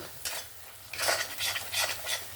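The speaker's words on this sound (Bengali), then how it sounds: "জিরে গুঁড়ো দিয়ে আমি আবারও মিক্স করে নেব" A spoon scrapes through spiced cabbage curry, cooked with fish head, in a pan in several distinct strokes over a faint low sizzle, fairly quiet and close, with no voices.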